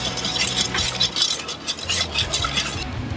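Beef tallow is stirred into Nashville hot sauce in a bowl, a steady close wet swishing and scraping that runs continuously without pause, with no voices.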